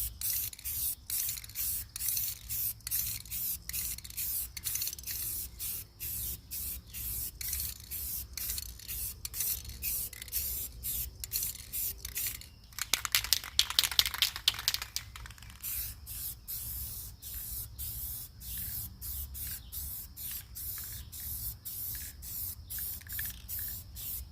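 An aerosol can sprays paint onto the bottom of an old boat's stern in steady, close hissing bursts, with a louder, denser blast of spray near the middle.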